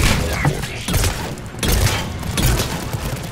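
Heavy gunfire and grenade blasts in the shooter game Mass Effect 3, with rapid bursts of automatic fire broken by a few deep booms, all loud and close.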